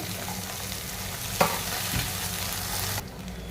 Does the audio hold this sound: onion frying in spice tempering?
yes